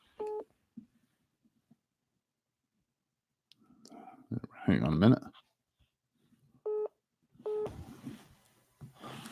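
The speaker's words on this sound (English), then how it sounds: "Got the phone going off" Brief electronic phone tones sound during a Google Voice call: one short beep at the start and two more near the end, with quiet muttered talk in between.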